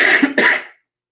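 A single close, loud cough from an adult, a harsh double burst that ends abruptly into silence.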